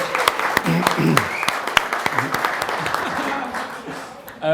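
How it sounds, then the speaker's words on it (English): Audience applause for Phil's birthday at a coffee gathering, a dense wash of clapping with a few sharper claps standing out, steady for several seconds and fading slightly toward the end, with some voices mixed in. "let's give a little round of applause for Phil's"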